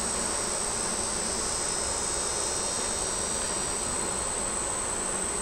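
Honey bees buzz at an opened hive after a hot month, a dense, steady drone with a thin high whine running unbroken throughout.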